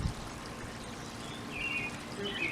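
Liquid root booster pours steadily from a container into a potted tomato plant at close range. The stream trickles continuously and fairly quietly, with no talk over it.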